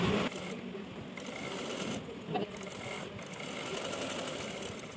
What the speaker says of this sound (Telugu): ఆ 1 ఇంచ్ క్లాత్ని ఇక్కడ ఫోల్డ్ చేసుకుంటూ స్టిచ్ చేసుకోవాలి